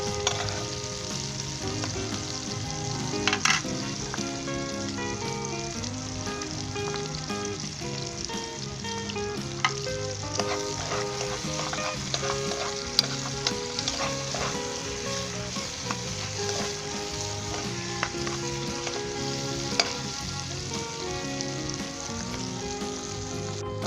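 Eggs and poppy seeds frying in a pan toward light golden brown, a continuous, even sizzle with small crackles and pops, heard alone with no talking.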